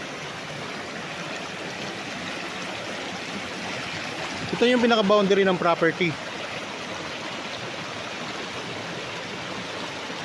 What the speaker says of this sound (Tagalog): Ito na yung ilog mga kapraps oh.